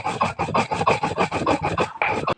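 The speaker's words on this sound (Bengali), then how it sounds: "জিরাগুলো আমি এখন শিলনোড়ার মধ্যে বেটে নেব।" Roasted cumin seeds are ground on a stone shil-nora slab, producing close, rhythmic rasping scrapes in quick back-and-forth strokes, about a dozen in a row, with no talking.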